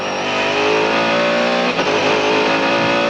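On board a 1999 Mercedes CLR race car at Le Mans, the engine roars loud and close as it drops down through the gearbox into a right-left corner, its buzzing howl steady throughout with a brief dip midway.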